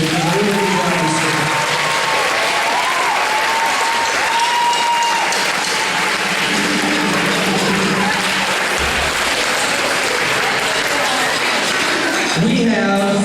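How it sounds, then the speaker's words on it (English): A school audience gives sustained, loud applause to a 7th and 8th grade band after their concert in Memphis, with clapping filling the hall throughout and a few voices and shouts mixed in. "One big round of applause for both groups."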